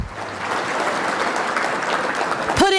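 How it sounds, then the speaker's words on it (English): A crowd at a farm educational event claps steadily and fairly loudly, a sustained round of applause that continues without a break before fading into a brief tone at the end. "Let's give those two groups a big round of applause."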